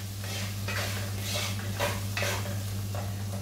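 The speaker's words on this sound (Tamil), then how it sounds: "இந்த பக்கம் ஆளு கறி தாளிச்சுக்கலாம்." Tempering for an Indian potato curry sizzles and crackles steadily in a pan, with bursts of spattering and stirring over a constant low hum, close and moderately loud, no voices.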